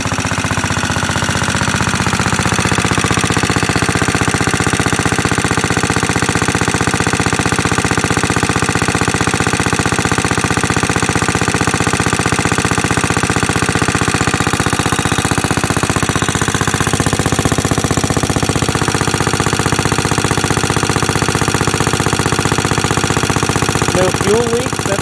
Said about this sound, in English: Alright, well, little Onan's running.